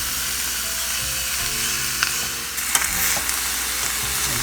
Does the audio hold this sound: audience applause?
no